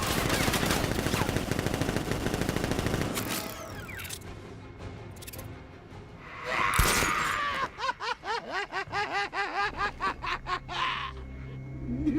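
Rapid bursts of automatic gunfire in Batman: Arkham Knight, dense and continuous at first, then a lone loud blast followed by a series of rhythmic, whooshing shots.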